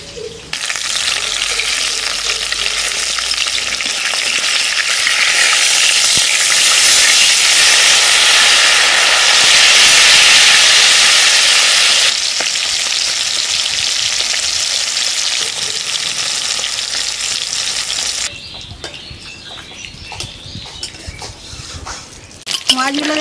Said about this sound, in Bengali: মাছগুলো দেখুন কত সুন্দর কড়া করে লাল লাল করে ভেজে নিয়েছি।